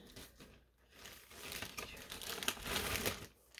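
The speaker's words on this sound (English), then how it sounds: "Sorry for the crinkling." Packaging is crinkled up close, giving a soft, uneven rustle that swells over a few seconds and then dies away, with no voices.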